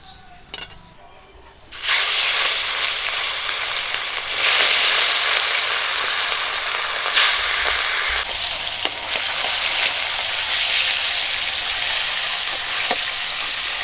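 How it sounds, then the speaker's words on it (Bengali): Oil sizzles loudly and steadily as rohu fish fries, a dense crackling hiss that starts abruptly after a quiet moment and continues without pause. "মাছগুলো ভাজা হয়ে গেছে তুলে নেব"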